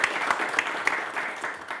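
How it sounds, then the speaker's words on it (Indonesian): Applause from an audience at a televised fencing medal ceremony, honoring a gold medalist; steady dense clapping with a few sharper claps standing out, lasting throughout. "Boleh kita kasih tepuk tangan untuk Riki di Sulima"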